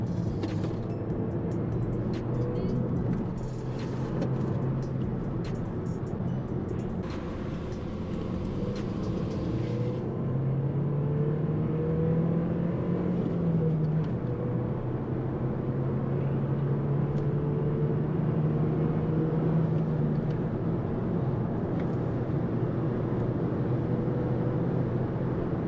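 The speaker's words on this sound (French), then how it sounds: "Ça accélère vraiment fort." Car accelerating hard, its engine note climbing in pitch in a few pulls from mid-distance, fairly quiet against a constant background hum.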